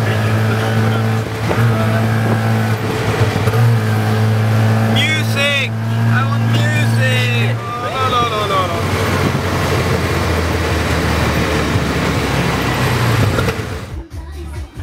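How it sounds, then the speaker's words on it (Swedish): A tuk-tuk built from a moped with a trailer rides fast through Thailand. The engine drones steadily with rushing wind noise throughout, and voices talk over it. "Så här kommer ett klipp när vi åker tuk-tuk i Thailand. Det är en moped med släp."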